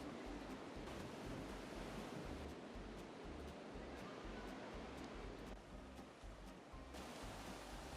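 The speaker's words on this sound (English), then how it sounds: "The gracefully flowing and beautiful Vltava river is always nearby with its lovely song in the background." The Vltava river flowing past the historic town of Český Krumlov, a steady broadband rush of water with a soft, continuous wash and no voices.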